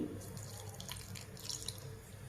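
Water runs and splashes steadily for a couple of seconds into a grinder of masala with coconut, a continuous pouring trickle with no voices.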